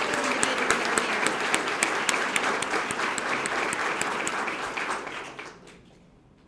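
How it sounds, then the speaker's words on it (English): Audience clapping at a police promotional ceremony, a loud, dense burst of many hands close by, holding steady for several seconds before thinning out and fading away near the end. "one more round of applause for our individuals that are here"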